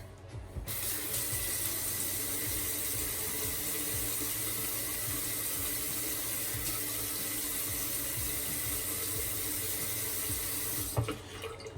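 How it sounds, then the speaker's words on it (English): Water runs steadily from a tap into a stainless steel pan, a continuous close splashing hiss that lasts for about eleven seconds and then stops abruptly. "I'm gonna add a little water just in case."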